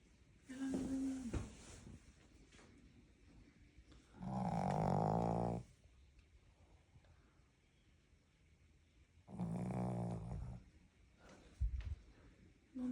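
Dog snoring, three loud rasping snores with a rumbling low rattle, each lasting a second or more and separated by several seconds of quiet breathing, close by with no talk.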